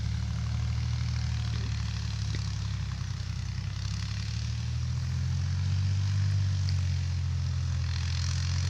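A tractor pulls a harrow across a farm field, its engine droning low and steady at moderate distance throughout, with a slight swell in intensity midway and no voices.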